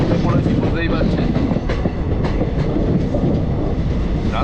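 A Holi special train running from Kolkata toward Darjeeling rattles loudly from inside the carriage, with rhythmic wheel clicks and rumbling over a dense roar, faint voices mixed underneath.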